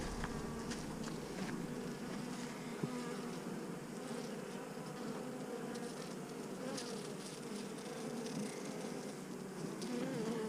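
Honey bees in a bee yard, a colony that is failing, hum in a steady, dense drone that carries on evenly throughout, close and fairly quiet, with no voices.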